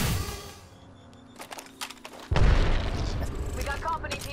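A frag grenade in the video game Apex Legends goes off with a sudden loud boom midway, preceded by quieter clicks and game sounds, then a rumbling tail with crackling effects.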